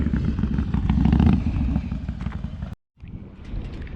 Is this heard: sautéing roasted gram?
no